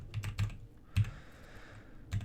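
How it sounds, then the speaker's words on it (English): Scattered keystrokes on a computer keyboard click in small, irregular clusters with pauses between them, fairly quiet and close by with no talk. "you're just going to type in TrueCharts right here"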